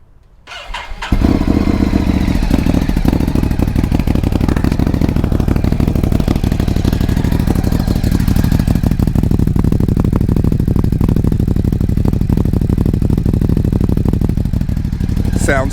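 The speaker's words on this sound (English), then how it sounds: "why don't I start up the Ducati so you can hear it" Ducati Scrambler 1100 Sport Pro with a Termignoni exhaust cranks and fires, then settles into a loud, steady, lumpy idle close by.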